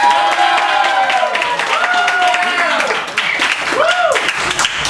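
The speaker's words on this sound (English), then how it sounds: "I didn't have to tell you guys by a round of applause." An improv comedy audience breaks into a round of applause, clapping mixed with cheers and whoops from the crowd while a performer talks over it.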